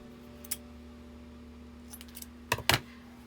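Scissors cut paper during a Halloween shaker-globe craft, giving a few short, crisp snips near the end and one faint snip early on, alone over a low steady hum.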